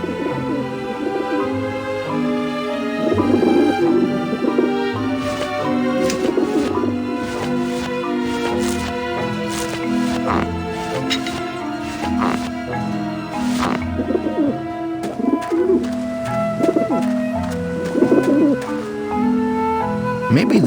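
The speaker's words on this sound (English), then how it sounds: "I don't like the looks of those pigeons." Pigeons cooing in the video game Grim Fandango, repeated low soft coos over a layered musical score, with scattered sharper accents throughout.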